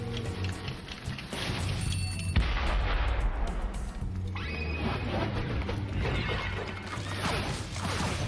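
Bombs explode in the Spyro Reignited Trilogy video game during a fight against a wizard boss, with a heavy boom and crashing blast among dense game sounds and music.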